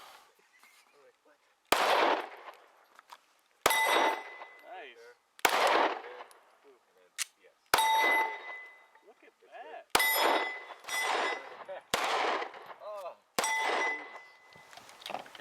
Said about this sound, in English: When I fire the Glock, it has a little bit of a kick, but it's a 9, so it's not too much